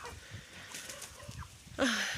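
A hen gives soft, scattered clucks, then a louder squawking cluck near the end, with faint farmyard background.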